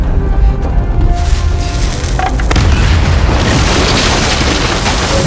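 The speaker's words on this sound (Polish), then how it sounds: "Natan, to wszystko zaraz wyleci w powietrze!" Massive explosion in the action game Uncharted 4, a loud, deep, sustained roar of blast and debris filling the whole stretch without letting up.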